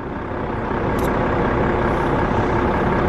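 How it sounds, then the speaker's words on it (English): A Wabra's truck engine idles beside a main road, a loud steady low rumble filling the whole stretch with a brief hiss near the start. "next to the truck, next to the main road, with a Wabra's truck running in the background"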